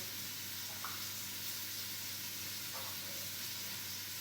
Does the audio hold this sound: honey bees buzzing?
no